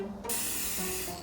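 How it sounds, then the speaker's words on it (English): A steady, close hiss of an aerosol spray can of black paint being sprayed onto a campervan window, starting abruptly after a brief pause and continuing without letup. "getting ready to spray paint the window"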